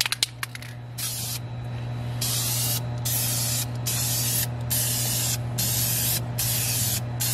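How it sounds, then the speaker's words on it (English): Aerosol spray can laying a coat onto inkjet printable vinyl decals, heard as a series of loud hissing bursts, about six long sprays with short pauses between them, over a steady low electrical hum. "And now what we're going to do is do our spray out."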